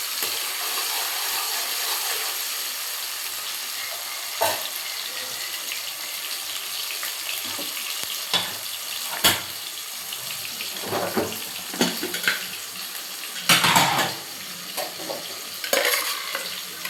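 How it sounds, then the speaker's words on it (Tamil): Cauliflower florets boiled in water in a home kitchen, then stirred and strained, with a steady background hiss of running or bubbling water and several sharp splashing clatters as the pieces are stirred and poured. "தண்ணி கொதிச்சோன்னா அதில் போட்டு நல்லா கிளறி விட்டு வடிகட்டிடணும்."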